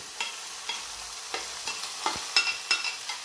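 Minced meat sizzles steadily in a pan with onions while a utensil stirs and scrapes it in short, uneven strokes, close and clear, with no talking.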